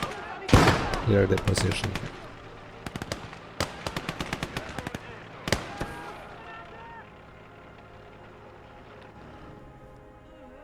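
A grenade explosion and bursts of gunfire in the WW2 video game Gates of Hell: Ostfront: a loud close blast, then sharp irregular shots and rattling fire that fade into a low rumble, with a voice speaking in the game.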